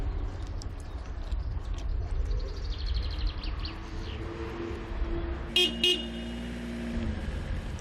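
A car horn honks in a couple of short blasts partway through, sounding over a low rumble of engine and traffic, with faint bird chirps earlier on.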